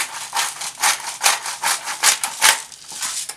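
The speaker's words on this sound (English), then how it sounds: "A couple good fresh grinds of black pepper." A pepper mill grinding fresh black pepper over vegetables for a roasted vegetable torte, a close series of about eight short, crisp, gritty grinding bursts in an even rhythm, with no talk.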